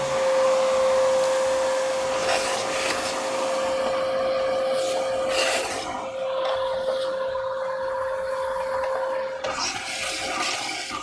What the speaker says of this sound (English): There's still a lot of dust in this area here, so I'm going to go ahead and shop vac that as well